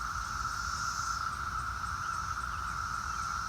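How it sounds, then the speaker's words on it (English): Periodical cicadas in Maryland in 2021 drone in a loud, continuous, steady chorus, a sustained buzzing hum that fills the whole stretch without pause or talk. "Those cicadas are so loud."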